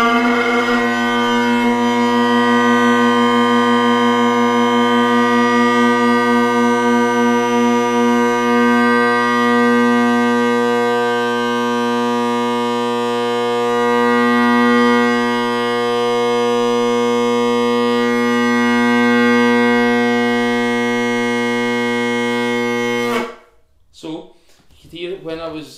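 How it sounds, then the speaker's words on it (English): Bagpipe tenor and bass drones played together without the chanter, slightly out of tune, sustain a loud, steady buzzing tone with slow beating swells for over twenty seconds before cutting off, followed by a short bit of talking. "there's a disturbance where the two noises, the tenor drone and the bass drone, are opposing each other."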